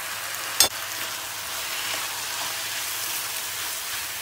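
Tomatoes, peppers and half a tablespoon of tomato paste fry in a pan for an eggplant dish, making a steady close sizzle with one sharp clatter near the start.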